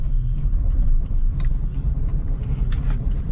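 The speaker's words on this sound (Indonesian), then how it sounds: "Kita gunakan gigi 1 saja. Kita jalan pelan-pelan saja ya." A manual car creeping slowly in first gear, heard as a low, steady engine rumble from inside the cabin with a few faint mechanical clicks and taps.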